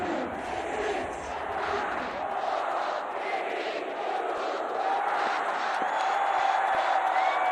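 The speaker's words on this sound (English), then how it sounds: "You can hear the crowd." A crowd fills a boxing arena at the ASBC Asian U22 and Youth Championships, a steady roar of many voices with rising cheers, heard at a distance under continuous broadcast atmosphere.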